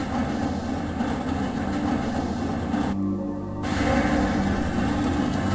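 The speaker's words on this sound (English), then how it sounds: "This train is inbound from Level 3 dormitories to Sector C test labs and control facilities." A rail car travels along its track in the video game Half-Life, a steady, loud rumbling drone with a brief dip in the upper hiss partway through, then continuing evenly.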